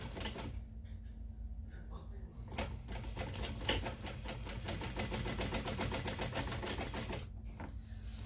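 A sewing machine stitches a mini backpack with contrasting thread, a rapid close mechanical chatter that starts after a short pause, runs steadily for several seconds and then stops.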